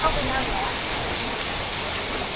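Heavy rain pours down at Siam Square in Bangkok, a dense, steady hiss of downpour hitting surfaces close by, loud and unbroken throughout.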